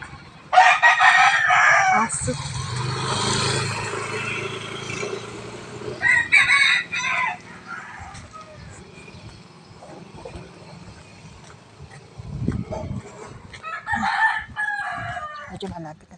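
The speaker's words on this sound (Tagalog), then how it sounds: "Ay mga manok" Fighting cocks kept as gamefowl crow repeatedly in bursts across the stretch, fairly loud and near, with a couple of separate crows spaced several seconds apart over faint background noise and no talking.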